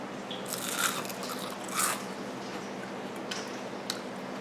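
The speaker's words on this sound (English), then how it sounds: "You can hear the crunch" Crisp crunching bites into a fried onion ring, a couple of louder crunches followed by quieter chewing crackles, close up over a low background hum.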